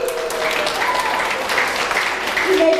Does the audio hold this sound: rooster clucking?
no